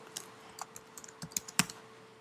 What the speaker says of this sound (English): Type in the name of the song or the artist that I want.